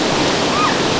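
Rushing water from a waterfall in Negril, Jamaica, pours in a constant, dense broadband wash, close and loud, with no voices.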